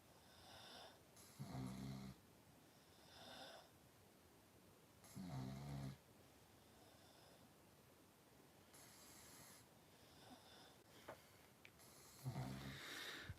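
Slow, rhythmic snoring from a dog, soft rasping breaths recurring every few seconds, close and quiet with no talking.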